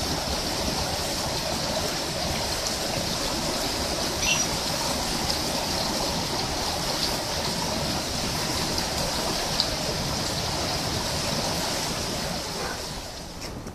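A creek runs along a shady campsite at Wild Plum Campground near Nevada City. The water rushes in a steady, broad wash that stays close and unbroken from start to finish.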